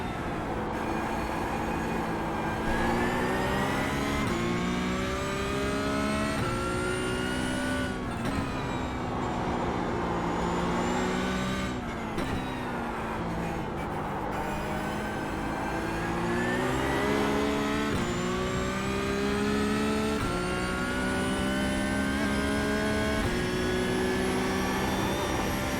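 Porsche 992 GT3 Cup engine in the iRacing sim at Old Circuit Park Zandvoort, loud and continuous, revving through a lap with rising and falling pitch as gears shift, steady and alone with no talk.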